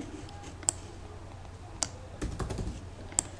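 Computer keyboard typing while changing a password: a few sparse, sharp key clicks, close and fairly quiet, with a short cluster of softer taps in between.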